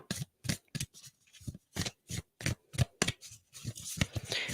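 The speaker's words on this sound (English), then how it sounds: "These really want a nice shuffle." Cards from a Dreamweaver's Oracle deck by Colette Baron Reed being shuffled by hand, a series of close, crisp riffling bursts at a steady rhythm with short pauses between them, no talking.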